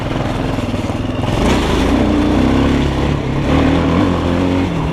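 A GEON X-Road 250 PRO enduro motorcycle engine revs loudly and close, with a throaty pulse that swells into sustained higher revs and dips briefly before climbing again.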